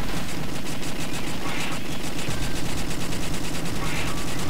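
Machine gun fire in House of the Dead 2 on the Dreamcast: a loud, continuous rattle of fast, evenly spaced shots that runs without a break, with game noise layered underneath.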